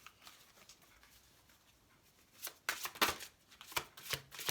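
Tarot cards are shuffled and drawn from a deck, quiet soft rustling at first, then a run of louder riffling flicks and slaps close by.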